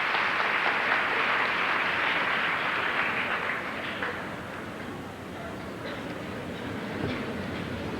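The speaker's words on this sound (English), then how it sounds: "Please give these scholars, as well as those other students who participated, a big round of applause" A large audience at a 1984 Wadsworth High School commencement gives scholarship award winners a round of applause, a thick, continuous roar of clapping that holds steady and full for the whole stretch.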